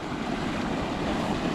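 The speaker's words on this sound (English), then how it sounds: "Water just reached this tube on the next dam down. She's roaring." Water roars steadily through a tube below a beaver dam, a dense, continuous rushing wash heard close up with no break across the short stretch.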